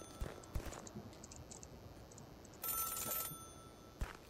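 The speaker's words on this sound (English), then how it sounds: "Should I answer the phone?" A telephone rings inside the video game Celeste, a short electronic ring that sounds in a few brief bursts over a quiet background.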